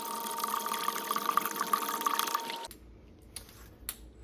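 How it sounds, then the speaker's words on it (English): Liquid pours steadily from a 32-ounce bottle of descaler into a water bucket that is a little more than a third full. The pour runs for a couple of seconds and then stops, followed by faint drips and small handling noises. "we can take our entire 32-ounce bottle of descaler and put that"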